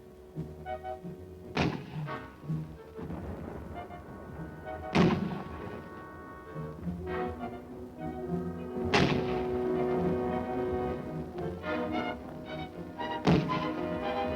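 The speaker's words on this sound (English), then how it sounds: "The sights are aligned, and the 60-millimeter begins its explosive attack." A 60-millimeter mortar fires in the Korean War, four sharp, heavy thumps spaced a few seconds apart over a continuous low background rumble.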